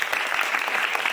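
A crowd claps at a gathering, a dense burst of applause of many hands filling the short moment at close range.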